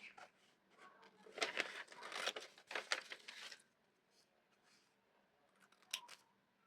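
Scissors snip through magazine pages in a quick run of close, crisp, papery cuts over about three seconds, then a pause and a couple of isolated snips later.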